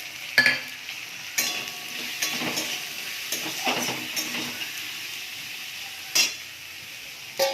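Potatoes seasoned with turmeric, chili and salt fry in a hot pan, a soft sizzle broken by a few sharp stirring scrapes and clinks of the utensil, close by with no talk.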